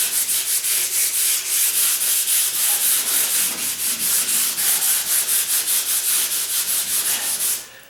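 Hand sanding on wood, a rhythmic rasping scrub of quick back-and-forth strokes, close and steady, then stopping at the end.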